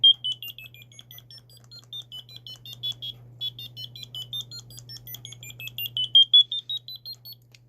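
A simple piezo buzzer beeps out a theme as a thin, shrill melody of short tones over a steady low hum, close and fairly quiet, with no talking.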